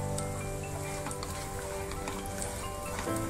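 Cashews, almonds and raisins fry in hot ghee with a dense, steady crackling sizzle that holds evenly throughout, close and fairly loud with no voices.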